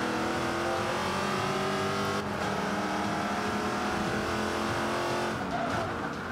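Engine roar and tire noise from a race car driven flat out across grass in Forza Motorsport 5 on Xbox One, a loud continuous drone with a brief dip and surge partway through, no talk over it.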